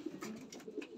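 Faint cooing from racing pigeons in a loft, a few soft, low throaty coos spread across a brief moment with light background noise.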